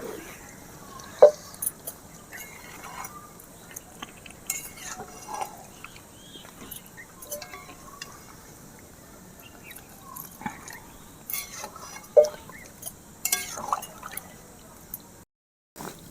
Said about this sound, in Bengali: এবারে অল্প জল দিয়ে দেবো, আগের থেকে করে রাখা গরম জল